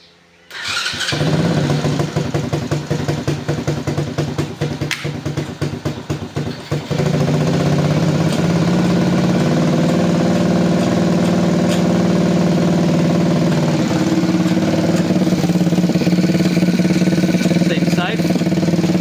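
A Honda Gyro X scooter, jacked up off the ground, cranks with a rapid chattering start for several seconds, then its engine catches and settles into a loud, steady idle.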